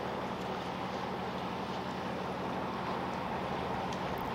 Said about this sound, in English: The first tour boat for the day glided through the water.